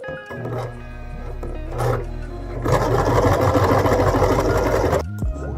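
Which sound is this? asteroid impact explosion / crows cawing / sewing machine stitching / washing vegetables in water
sewing machine stitching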